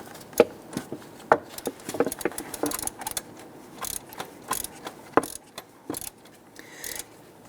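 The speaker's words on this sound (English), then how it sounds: "And go ahead and snug down the bolt." Ratchet snugging down the idler pulley bolt on a 1999-2004 Jeep Grand Cherokee 4.7L V8, a series of short metallic clicks and clatters in uneven bursts, close by and fairly quiet, without speech.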